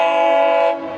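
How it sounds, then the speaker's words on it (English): San Diego Coaster commuter train arriving at a station, its horn blaring one loud sustained blast that cuts off, leaving rumbling train noise. "And here is the train that I was supposed to take."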